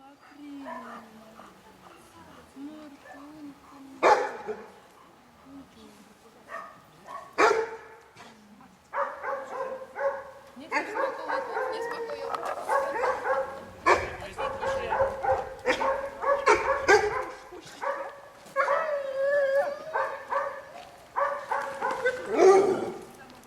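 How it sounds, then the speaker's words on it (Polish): A frustrated dog barks and yips in repeated bursts, interspersed with whimpering, fairly close, while people talk intermittently throughout. "Przez chwilę wyraźnie widać, jak pies frustruje się, szczeka, denerwuje"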